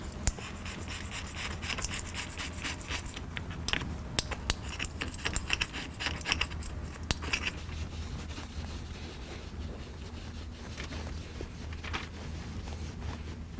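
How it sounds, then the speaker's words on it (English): A razor-blade gasket scraper rasps old seal material off a Ford F-350 differential housing, giving steady, close scratching strokes with small metallic ticks throughout, no voices. "So grab a gasket scraper, which is basically just a razor blade,"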